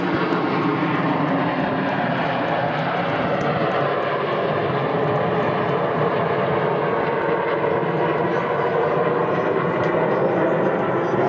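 Nine Red Arrows jets fly close formation aerobatics at the East Fortune Airshow, giving a continuous broad roar of jet engines that stays steady and fairly loud throughout.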